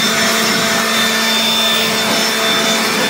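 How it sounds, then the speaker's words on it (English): Loud, continuous whooshing roar of a leaf blower running steadily at close range, blowing sanding dust off car wheels, with no breaks. "I'm going to blow off any excess dust from sanding with my leaf blower"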